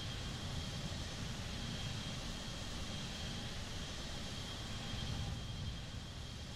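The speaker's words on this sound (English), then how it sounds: "Right, let's taxi to the active parking space." An airliner in the Roblox game Aeronautica taxis with a steady, broadband jet engine rumble and whine, continuous and fairly faint, with no other sounds over it.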